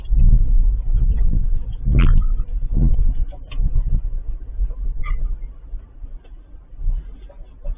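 A car drives along a road at the speed limit, its engine and tyre rumble steady and close from inside the cabin, easing slightly toward the end.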